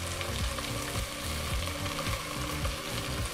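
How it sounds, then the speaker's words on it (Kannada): Onions and fenugreek leaves frying together in a pan give a dense, continuous close sizzle with faint stirring scrapes and no talking. "ಮೆಂತ್ಯ ಸೊಪ್ಪನ್ನ ಸೇರಿಸಿ ಈರುಳ್ಳಿ ಮತ್ತು ಮೆಂತ್ಯ ಸೊಪ್ಪನ್ನ ಎರಡನ್ನೂ ಜೊತೆಗೆ ಫ್ರೈ ಮಾಡ್ಕೋಬೇಕಾಗತ್ತೆ"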